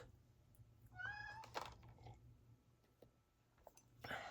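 A cat meows once in a short rising call, fairly close but soft, followed by scattered light clicks and taps in a quiet room with no talking.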